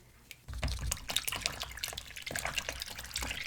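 Warm tap water runs steadily while Nintendo Switch parts are washed with Dawn dish detergent in a sink, a close broadband splashing and dripping stream that starts after a brief quiet moment and continues without speech.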